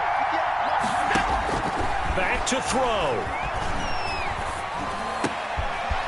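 Loud, steady roar of a stadium crowd in an American football video game, a constant wash of noise with whoops and cheers under a commentator's talk.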